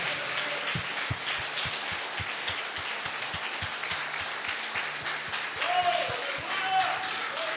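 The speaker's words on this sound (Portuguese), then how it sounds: "desse uma linda salva de palmas ao Senhor" A church congregation applauding during a worship service, a dense steady wash of clapping with voices and music underneath throughout.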